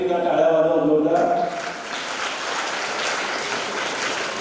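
An audience at a school competition prize event breaks into loud, dense clapping after someone speaks briefly into a microphone, the applause continuing steadily to the end.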